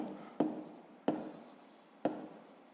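Pen writing on paper during a sixth-grade maths exercise, three sharp scratching strokes spaced about a second apart, each with a brief trailing rub, close and fairly quiet.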